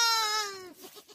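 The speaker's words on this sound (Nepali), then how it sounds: "भेडा च्याङ्राहरू चराउनु जाँदाखेरि तिनीहरूको बच्चा चाहिँ यसमा थुन्ने रहेछ" A single young sheep or goat in a farm shed gives one clear, close, wavering bleat that trails off into quiet shuffling.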